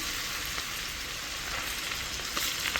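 Ginger and garlic frying in hot oil with cumin seeds in a home kitchen pan, giving a steady, dense sizzle and crackle with a few sharper pops, close and continuous, no talking.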